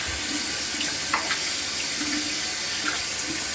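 Hands are washed under a running tap, giving a steady close rush of water with small splashes and shifts as the hands move through the stream.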